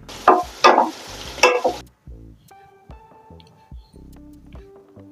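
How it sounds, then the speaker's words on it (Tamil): Tomatoes added to softened onions sauté in a pan for hotel-style poori masal, with three loud stirring scrapes and sizzles early, then quieter clinks and a soft, steady sizzle underneath. "இப்போ வந்து நம்ம தக்காளியை ஆட் பண்ணிக்கலாம் தக்காளி நல்லா வதங்கணும்"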